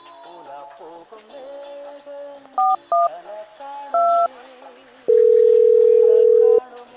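A telephone gives three short keypad tone bursts and then a loud, steady dial tone lasting about a second and a half, over quiet background sound.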